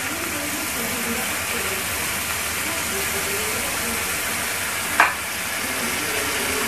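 Onion paste with turmeric frying in a pan for a paneer curry, an even, moderate hiss throughout with one brief sharp clink near the end.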